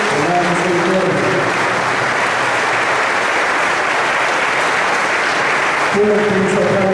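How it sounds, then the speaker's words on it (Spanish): A church congregation claps loudly during Divine Mercy Sunday Mass at a basilica parish. The sustained applause fills the whole span, and a voice speaks over it briefly at the start and end. "Vamos a dar un fuerte aplauso al Señor Jesús de la Misericordia."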